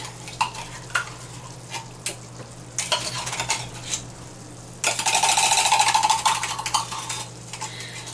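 Tomato paste is scraped from a whole can into a big pot of caramelizing onions with a utensil, making intermittent scraping and stirring noises over a steady low sizzle. A louder, sustained burst of sizzling and clatter follows midway, with no talking.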